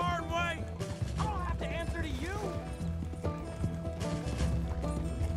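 Horse hooves clip-clopping in the Red Dead Redemption 2 video game, a steady galloping rhythm under game music and overlapping character dialogue and a player's commentary.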